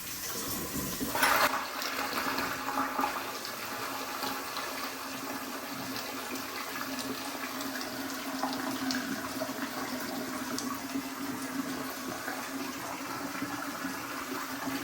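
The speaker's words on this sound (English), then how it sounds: "with toilets, we like to flush" A household toilet flushes with a loud rush of water, then keeps running and refilling steadily for about fifteen seconds, close by and with no voices.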